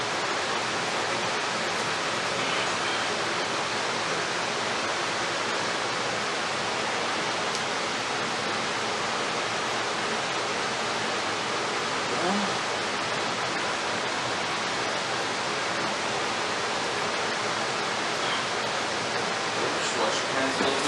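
Water pours steadily from a tap as hands are washed after handling raw meat for barbacoa, a loud, unbroken rushing hiss that continues close by throughout.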